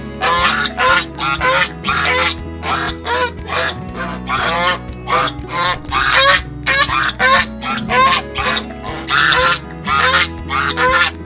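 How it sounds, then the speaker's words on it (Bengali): Ducks and chickens kept on a farm beside a banana garden in Nicaragua, calling loudly and close by in a steady series of honking, quacking bursts with little pause between them. "হাঁস রয়েছে"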